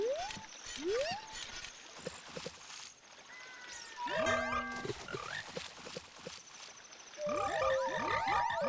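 Frogs croak in a Zelda game, a series of rising, chirpy calls in clusters, loud and close, with a dense burst of overlapping croaks near the end.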